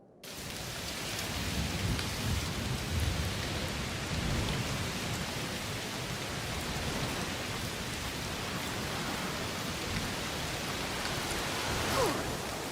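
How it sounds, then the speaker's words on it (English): Heavy, steady rain pours down in A Plague Tale: Requiem, a dense, unbroken wash of drops on surfaces with a soft low rumble beneath it, continuous and close throughout with no voices. "It's raining a lot."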